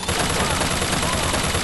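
Rapid gunfire from a gun in BioShock Infinite forms a loud, continuous burst that fills the whole short moment, dense and close with no pauses.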